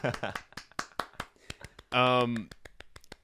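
A podcast host claps by hand in place of soundboard applause: a run of sharp, close, separate claps in an uneven rhythm, broken once by a short, loud sustained vocal cry before the clapping resumes.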